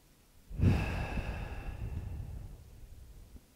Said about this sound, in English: So we'll take a few more breaths here.